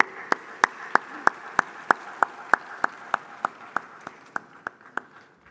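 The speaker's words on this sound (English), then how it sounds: "Please, a round of applause." Evenly spaced rhythmic claps at the Afreximbank Annual Meetings, about three per second, crisp and steady over a quiet hall before fading slightly toward the end.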